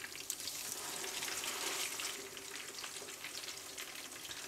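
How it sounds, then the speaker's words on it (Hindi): Chapli kabab frying in a pan, a steady close hiss and crackle of sizzling oil that holds continuously throughout without speech. "तीन से चार मिनट तक चपली कबाब को पका लिया है। अब इसकी साइड चेंज कर देंगे"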